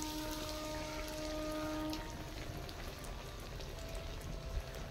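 Fish cutlets, hilsa fish in a banquet-style recipe, sizzle and crackle steadily in hot frying oil, a soft continuous hiss with scattered pops, close and fairly quiet, with no talking.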